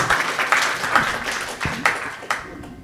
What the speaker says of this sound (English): Big applause for Lieve.